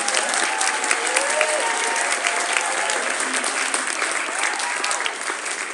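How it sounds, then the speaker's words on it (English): A concert audience applauds the accompanists with steady, loud clapping that holds throughout and tapers slightly at the end. "We give him a round of applause."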